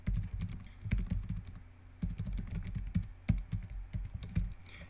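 Close, crisp clicking of fingers typing on a computer keyboard, with quick bursts of keystrokes separated by short pauses and no talking.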